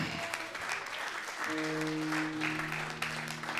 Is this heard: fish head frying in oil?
no